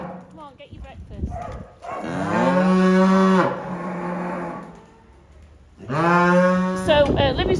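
Cow named Libby moos loudly and close by for her breakfast, giving two long drawn-out calls separated by a pause, with a voice speaking briefly in the background.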